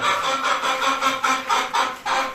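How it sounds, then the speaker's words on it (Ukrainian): Chickens cluck close by in a series of repeated squawky bursts, loud and continuous with no pauses. "Ці кури не дають нормально відео знімати."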